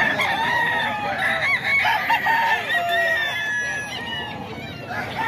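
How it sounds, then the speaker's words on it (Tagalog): Several roosters crow over a busy chicken market in Bocaue, overlapping calls rising and falling throughout, with clucking and people talking in the background. "Ito lang yung mga sample sa mga manok ni Sir Jesse."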